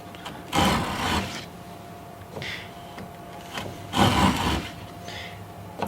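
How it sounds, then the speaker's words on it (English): A hand plane, an unmarked tongue-and-groove plane, pulls shavings along a wooden groove in two longer strokes with lighter scrapes between, close and fairly quiet. "Let's go ahead and take a few shavings."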